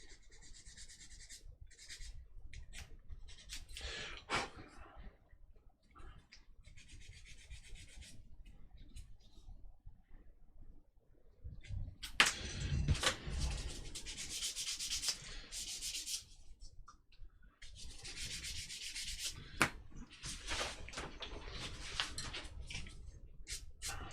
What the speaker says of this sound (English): So I'll do just a bit of filing.